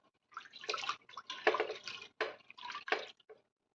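Water poured over toor dal set to soak for a spinach dal, coming in short, close splashing gurgles with brief gaps between pours.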